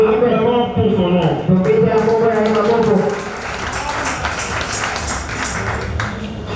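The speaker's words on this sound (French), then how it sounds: "Acclamons pour son nom." A church congregation applauds during a French-language sermon; the first half carries voices and musical tones over the clapping, then dense, steady applause fills the room until the end.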